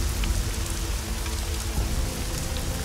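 Steady rain pours onto muddy ground in the video game Hitman Blood Money, a dense, even hiss that runs unbroken throughout with no voices.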